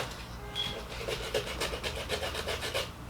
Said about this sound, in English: For the next step, we're going to take this little buffing cube.